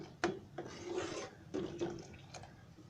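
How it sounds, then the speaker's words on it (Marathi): A spoon stirs rice porridge in a pot with a slow rasping scrape, in a few strokes that pause and then resume, close and fairly quiet. "1-1 मिनिटांनी असं ढवळून घ्यायचं"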